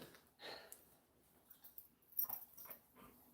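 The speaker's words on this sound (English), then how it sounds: "Yeah, that was a real dog bark." A dog gives a few short, faint snorting and whimpering bursts, spaced irregularly and heard from nearby in an otherwise quiet room.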